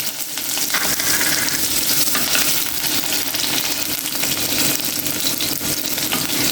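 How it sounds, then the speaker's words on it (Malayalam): Small shallots frying in coconut oil in a pan, a steady, loud, close sizzle and crackle that runs unbroken throughout, with no voices over it. "കറി ഉണ്ടാക്കാനായി നമ്മൾ ചട്ടിയിലേക്ക് വെളിച്ചെണ്ണ ഒഴിച്ചു കൊടുത്തിട്ടുണ്ട്. അതിലേക്ക് കുറച്ച് ചെറിയ ഉള്ളി ഇട്ടു."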